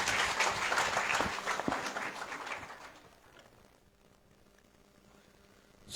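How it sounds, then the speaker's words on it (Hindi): Audience applause greeting a speaker at a Hindu religious gathering in Madhya Pradesh, a steady burst of clapping for about three seconds that fades to quiet room tone, with a brief rise at the very end. "तालियों के साथ स्वागत कीजिए।"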